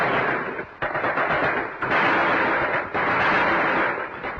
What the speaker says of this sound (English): over 600 auxiliary police, drafted to Ismailia from all parts of Egypt, opened fire in a determined resistance.